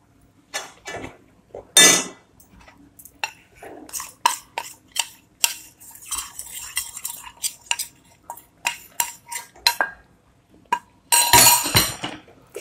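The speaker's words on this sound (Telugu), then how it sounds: "1/2 కేజీ పిండి ఇప్పుడు వేసుకొని కలుపుకుందాం" Wheat flour being stirred into ghee in a pan for gurudwara kada prasad, with a long run of irregular metallic scrapes and clinks from the spoon against the pan, some louder bursts near the start and end.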